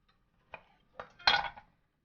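Food is plated onto a dish in a home kitchen, giving three brief clinks and knocks of utensil against plate, each a little louder than the last, close and clear, with no talking.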